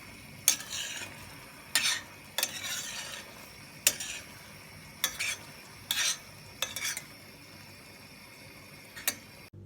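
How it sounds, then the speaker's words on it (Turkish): Spoon strokes scraping through a thick sugar-free traditional Anatolian dessert with cinnamon in a pot, about nine separate close scrapes at uneven intervals over a quiet background. "bir tatlı kaşığın ucu kadar tarçını da ilave edebilirsiniz iyice karıştırıyoruz"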